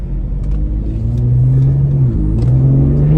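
A Ford Explorer ST engine, fitted with a cold side charge pipe and blow-off valve, revs up close with the transmission not yet warmed up, its tone rising and dipping briefly before climbing again, loud and steady.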